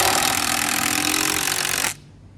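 A power drill drives a screw at an angle into wood for a Christmas tree corral, a loud continuous whirring grind that cuts off abruptly near the end.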